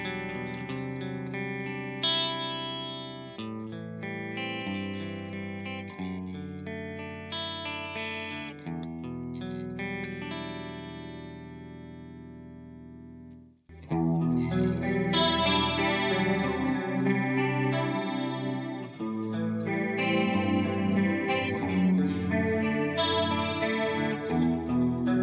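An electric guitar through a Marshall Origin 20H amp plays clean chords and arpeggios at low gain with a shimmering chorus effect, softer at first, then fuller and louder after a brief pause.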